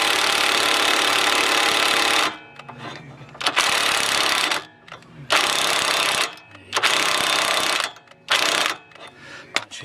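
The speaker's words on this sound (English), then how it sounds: "Back on the drill. Crack the rust a bit more." A drill hammers loud and near in repeated bursts of several seconds each, with brief pauses between, as rust is cracked on the rear suspension of an Alfa Romeo GT, 147 or 156.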